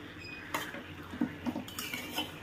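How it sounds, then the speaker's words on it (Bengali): A utensil clinks and scrapes against a pan of lote fish curry as the fish is stirred, a few soft knocks spaced over two seconds with a low kitchen hum beneath. "মাছগুলো নাড়িয়ে দিয়েছি"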